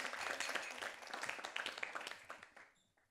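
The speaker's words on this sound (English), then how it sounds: "please give these amazing ladies a huge round of applause" Energetic audience applause at a film festival press conference in Mumbai, dense and fairly close clapping that holds steady, then tapers off and fades near the end.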